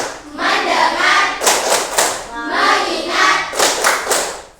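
Classroom clapping game in Indonesia: bursts of rhythmic group hand claps from pupils interleaved with loud chanted voices, close and energetic.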